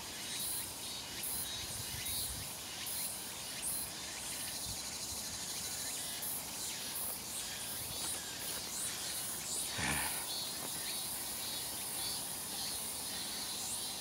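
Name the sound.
cicadas singing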